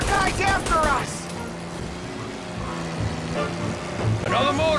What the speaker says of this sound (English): Another motor coming after the booze truck.